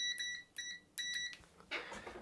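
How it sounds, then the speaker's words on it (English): Digital multimeter in continuity mode, checking points on a PlayStation 1 during a PSIO SD card upgrade, gives three short, shrill electronic beeps in an even rhythm, followed by a brief rustle. "continuity mode is that famous mode that goes beep, beep, beep, beep, beep, beep"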